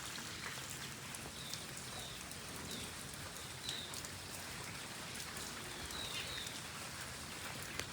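Rain falls steadily during a monsoon spell, a soft continuous hiss of drops on surfaces heard alone and at fairly low level, with faint bird chirps in the background.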